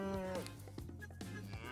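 Cattle mooing in the Farming World video game, several long drawn-out lowing calls that overlap one another, clear and moderately loud with nothing else heard.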